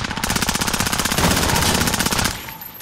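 Rapid automatic gunfire in Call of Duty: Modern Warfare rattles in a dense, steady burst of close, loud shots that cuts off abruptly near the end, with no talk.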